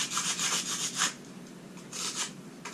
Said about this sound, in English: Now I will take my sandpaper and I'll rough that up a little bit.